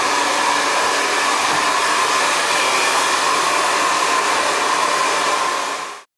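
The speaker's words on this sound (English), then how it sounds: "I always blow dry and then touch up if I need to with the razor thinning shears." A hair dryer blow-dries a fresh haircut, a steady, loud whooshing blast of air running unbroken for several seconds before cutting off abruptly.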